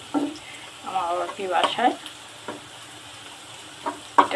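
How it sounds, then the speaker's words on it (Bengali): Onions frying in hot oil until browned and crisp, with a steady sizzle and occasional scraping stir strokes near the mic, and someone speaking briefly at the start. "পেঁয়াজ লালচে করে শুকনো করে ভেজে নেওয়া ওদের ভীষণ পছন্দ"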